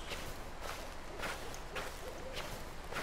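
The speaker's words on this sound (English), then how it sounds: "The owl does not help." Repeated owl hoots in the dark woods of the horror game Slender: The Arrival, four evenly spaced calls over a steady wind-like ambient hiss, moderately loud with no talk.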